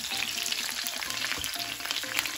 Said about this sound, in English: I think the oil is hot enough to go ahead and add these vegetables in here. I'm gonna saute these.